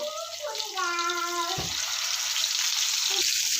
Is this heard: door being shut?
no